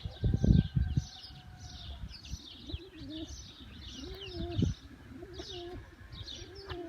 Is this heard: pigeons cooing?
yes